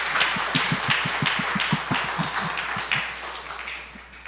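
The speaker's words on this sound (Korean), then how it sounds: "우리 큰 박수로 환영해 주셨으면 좋겠습니다" Applause from a church congregation at a Good Friday service, welcoming the pastor to the front: a steady wash of many hands clapping, with individual sharp claps standing out over the crowd throughout.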